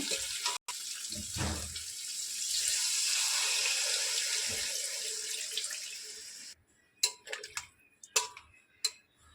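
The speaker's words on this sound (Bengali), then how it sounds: "এবার জল দিয়ে দেব।" Water pours into a cooking pan of mustard-based pointed gourd curry in a steady, close stream lasting several seconds, followed by a few sharp clinks and taps.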